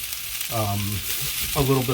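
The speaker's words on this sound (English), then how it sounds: "you're going to hear the moisture hit the oil" Peppers and potatoes for home fries sizzle in hot oil, a close, steady frying hiss with short bursts of crackle as moisture hits the pan, no voices.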